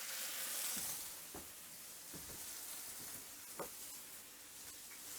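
Steak sizzling in a pan with oats on top and Scottish butter added, a close, continuous hiss broken by soft bubbling pops and a few stirring clicks, with no talking.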